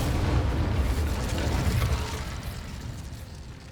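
The Incendio fire spell cast in Hogwarts Legacy makes a loud, whooshing burst of roaring flame that starts full and slowly fades, heard alone without voices.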